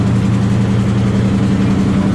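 A 1937 Page engine taken from a dragline runs at an antique machinery show, a close, loud, steady low thrum with an even, unbroken throb.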